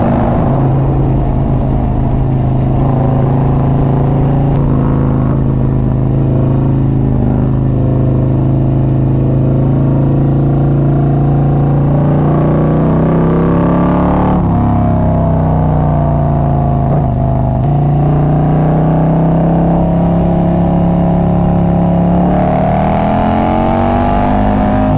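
A Harley-Davidson Road Glide with carbon fiber wheels and an Evolution Industries clutch accelerates hard, its engine note loud and close, rising and dipping steadily through gear changes with heavy wind and road roar.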